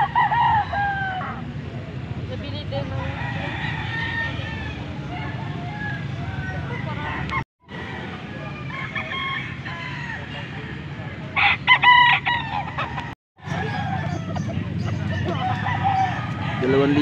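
A young rooster (stag) with green legs crows loudly and nearby, several calls in succession with clucking around it, while people talk over much of it.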